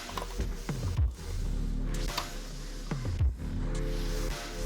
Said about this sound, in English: Let's remove 2 screws under the instrument cluster.